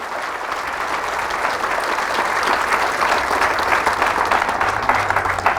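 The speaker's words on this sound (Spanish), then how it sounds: "Fuertes aplausos a la palabra del Señor." Loud, sustained applause from a church congregation during a priest's sermon, a dense unbroken wash of clapping that holds steady for several seconds with no voice over it.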